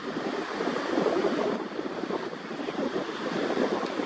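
Ocean surf washes steadily onto a beach where riders are towed out past the breakers, a continuous broadband roar of waves with some wind buffeting the microphone and no talking.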